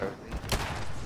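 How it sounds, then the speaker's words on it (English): A single sharp explosion bursts briefly in the video game Fallout 76, a quick broadband boom over a low background rumble. "Yay, explosions."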